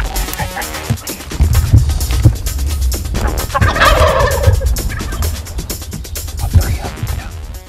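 A wild turkey gobbler gives one loud, rattling gobble partway through during a hunt, surrounded by close rustling and brushy movement noise.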